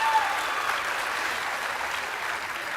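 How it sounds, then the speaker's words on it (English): An audience at a nursing pinning ceremony for Del Mar College graduates claps in sustained, even applause, moderately loud and steady throughout, with no speech. "round of applause to our grads."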